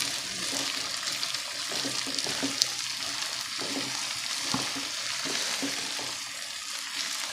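Vegetable pickle (mixed sabzi achar) being stirred and mixed by spoon, giving a continuous wet, hissing, oily mixing noise with soft irregular knocks, steady and fairly quiet, with no talking.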